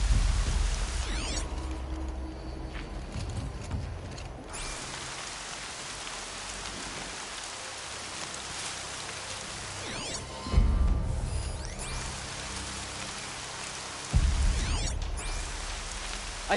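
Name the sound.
rain in Horizon Zero Dawn video game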